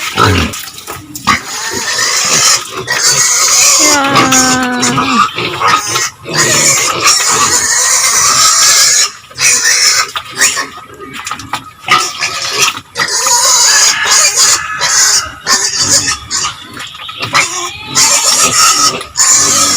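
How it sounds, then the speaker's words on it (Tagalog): Pigs squeal and grunt on a farm, loud and close, in a steady chaotic chorus with shrill rising cries and splashing noise throughout. "Baboy naman."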